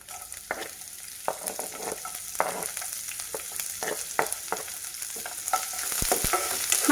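Chopped onions sizzle steadily in a hot pan with green chillies, cooking for ragi roti tacos, while a spoon scrapes and stirs in frequent sharp clacks, close and continuous.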